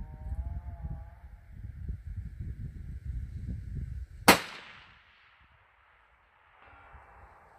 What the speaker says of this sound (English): then I fired my five round group